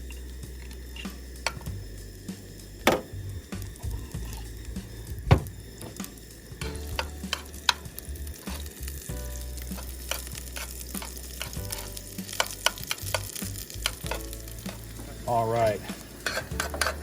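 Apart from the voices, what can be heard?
venison loin frying in hot grease in pan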